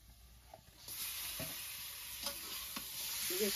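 Native village chicken frying in hot oil in a home kitchen, a steady broadband sizzle rising after the first second with a few scattered stirring clicks and scrapes, moderately close and without talk.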